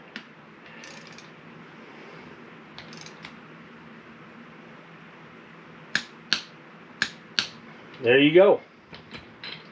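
A torque wrench clicks on the retaining bolts of a rear differential side flange, set to about 47 foot-pounds: four sharp, close clicks in quick succession, then a brief ratcheting rasp, with a voice speaking briefly.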